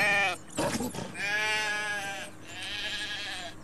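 Sheep in the video game The Wolf bleat loudly and close, several wavering calls in quick succession with short gaps between them, heard alone.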